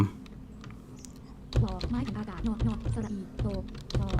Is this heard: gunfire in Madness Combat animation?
no